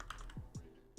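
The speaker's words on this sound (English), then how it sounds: "That's the game plan behind typing up these notes." Fingers typing notes on a computer keyboard during a live stock-market stream, a handful of quick, close clicks and key thuds in an uneven rhythm, with nobody talking.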